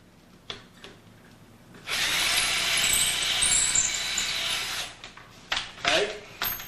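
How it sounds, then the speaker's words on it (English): A power drill whirs steadily for about three seconds while installing a pocket door, loud and close, with brief knocks and handling clatter before and after. "You drill the hole when you get it set."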